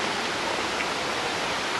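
Waterfall in the Karkonosze mountains near Szklarska Poręba, a steady, dense rush of falling water, loud and continuous throughout with no voices over it.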